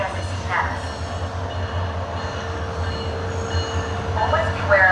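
A train rumbles past a crossing with a steady low mechanical drone and wheel noise, broad and continuous, rising slightly at the end.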